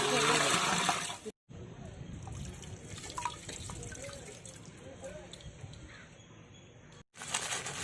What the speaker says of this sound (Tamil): அடுத்து தண்ணி ஊற்றிக்குவோம்